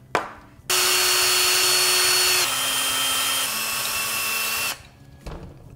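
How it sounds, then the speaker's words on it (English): A power drill runs for about four seconds to bore a 9/32-inch hole for an SMA connector in a radio hat board, a loud steady whine that drops slightly in pitch twice under load, then stops. "Now we need to drill out this far right hole to accommodate our SMA."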